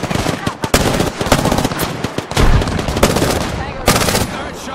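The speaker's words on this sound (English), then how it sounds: "Alright, shots fired and they're hitting me!" Gunfire from Apex Legends comes in loud, close bursts of rapid automatic shots with sharp cracks, broken by short pauses. Voices come through under the shooting.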